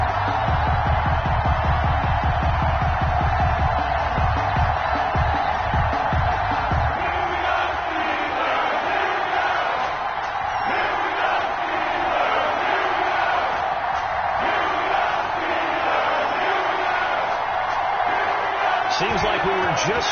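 Stadium crowd noise at an NFL game between the Baltimore Ravens and Pittsburgh Steelers in an EA Sports football video game on PS4, a steady loud roar with cheering swells and thumps throughout, with a commentator's voice over it.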